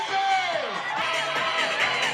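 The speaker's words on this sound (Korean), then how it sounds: "지지자들의 뜨거운 환호를 받으며 국민의힘 대선 경선 후보들이 당사로 향합니다." Supporters of the People Power Party cheer and whoop at the party headquarters as presidential primary candidates arrive, a loud, continuous crowd roar with shouts rising over it.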